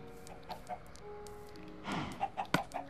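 Minecraft chickens cluck softly in the game, several short clucks scattered over the stretch and growing denser near the end, with a faint ambient hum beneath.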